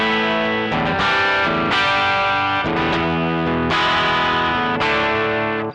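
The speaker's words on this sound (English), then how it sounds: "I've switched to my 72 thin line Telecaster with wide range humbuckers" Chords ring out from a 1972 Thinline Telecaster with wide range humbuckers through a barely dirty amp channel, several strummed chords sustaining and swelling, loud and close with no talk.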